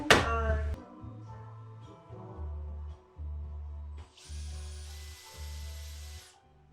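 A power drill drives screws into a ceiling panel in repeated short bursts of whirring, each trailing off, after an opening knock, with a hissing spray-like burst near the end; no one speaks.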